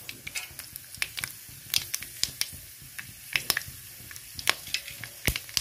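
Whole mustard seeds and dried chillies hit hot oil, popping and spitting in sharp, irregular crackles over a continuous sizzle, close and fairly loud.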